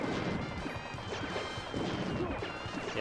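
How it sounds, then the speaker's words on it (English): Bomb explosions in the video game Wild Guns Reloaded, a dense run of crashing blasts and impacts layered with other game effects, continuous and moderately loud, with no talking. "Never mind the actual force of the explosion."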